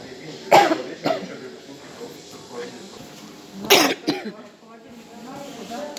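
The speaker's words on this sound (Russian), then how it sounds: "Такой кашель." Strong, harsh coughing from a COVID patient in a hospital, with several sharp bursts: a pair early on and another close pair a few seconds later, over a quiet room background.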